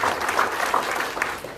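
Audience at a TVET principals and industry partners engagement meeting clapping for a regional team, a brief, fairly quiet patter of many hands with a faint murmur of voices underneath.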